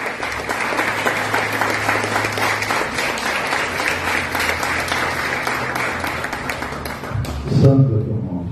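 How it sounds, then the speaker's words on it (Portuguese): A church congregation at a deliverance service applauds loudly and continuously, a dense wash of many hands clapping that stays steady throughout and ends with a brief low rumble. "Aplauda ao fiel dos fiéis, ao Senhor dos senhores"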